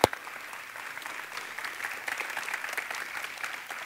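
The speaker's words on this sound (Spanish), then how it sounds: "¿Por qué no le damos un aplauso al Señor esta mañana?" Church congregation clapping during a Sunday morning service, a sharp thump at the start then steady, moderately loud applause from many hands building slightly and continuing throughout.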